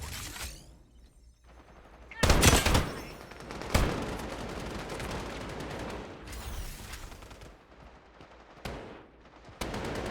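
Gunfire in the shooter game Strinova comes in sharp loud bursts, two strong blasts early then scattered shots and rapid firing over a quieter background.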